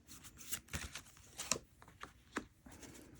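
Tarot cards being shuffled and drawn, a quiet series of soft papery riffles and slaps at an uneven pace, close by with no talking.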